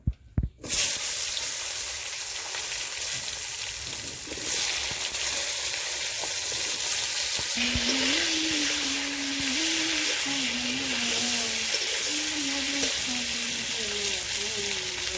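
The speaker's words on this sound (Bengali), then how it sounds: "এখন হালকা করে একটু বেগুনগুলো ভেজে নিব।" Pieces of eggplant fry in a pan with a loud, steady sizzle that carries on throughout, after a sharp clatter at the start, with no one talking.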